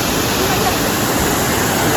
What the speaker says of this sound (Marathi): मस्तपैकी धबधबा आहे